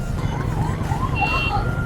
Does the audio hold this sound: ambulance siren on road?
yes